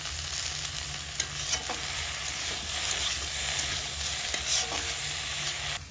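A banana flower curry is stirred in a wok over steady frying heat, a continuous close sizzle broken by scattered scraping and clinking strokes of the spoon, with no talking.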